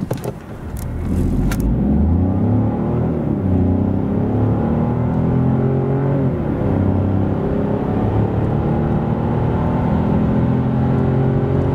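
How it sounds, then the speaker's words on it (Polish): A 2025 Fiat 600 Hybrid's 1.2 turbo engine accelerates hard from 0 to 100 km/h, its pitch climbing and dropping through several gear shifts, heard steadily from inside the vehicle. "a ogólnie tak w omawianej hybrydzie wygląda sprint od 0 do setki."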